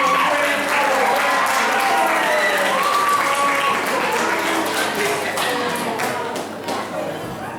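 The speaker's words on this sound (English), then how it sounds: "Let's give a round of applause." A round of applause at a Model United Nations conference, dense clapping mixed with crowd voices and cheers that gradually tapers off over several seconds.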